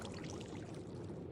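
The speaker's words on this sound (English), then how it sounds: "So I hear water flowing over there." Water pours and burbles steadily in Minecraft, a brief, faint, continuous rushing stream with no talk over it.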